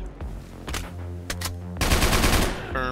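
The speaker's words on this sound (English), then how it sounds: "I'm still getting zombie kills from the turrets" Automated turrets in a Roblox zombie game fire in rapid bursts of gunfire, with several sharp shots early on and a denser, louder volley in the final second, close and without talk.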